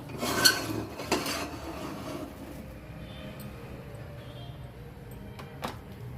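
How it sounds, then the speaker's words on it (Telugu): A metal wok set down on a stove for a boondi curry gives a couple of clanks and scrapes near the start, then a quiet background hum with one more faint clink later. "మూకుడు పెట్టుకొని నూనె అయితే పోసుకోవాలి"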